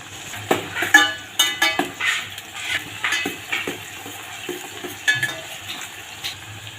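Onion, curry leaves, cumin and mustard seeds fry in a pan, a steady sizzle broken by repeated clinks and scrapes of a spoon stirring against the metal, close and without talking.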